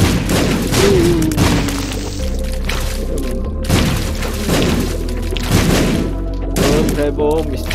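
Repeated booming thuds of bomb explosions in The Binding of Isaac, several heavy low blasts spaced a second or two apart amid game noise, with a voice talking over them.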